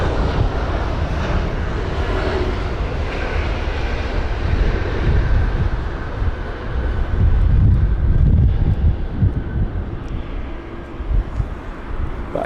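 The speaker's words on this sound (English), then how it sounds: "you can see the pilots are struggling, mainly that of the smaller aircraft" An A320-200 airliner lands at Heathrow in strong wind, its engine roar a dense continuous rumble mixed with gusty wind buffeting on the microphone, fairly loud and unbroken.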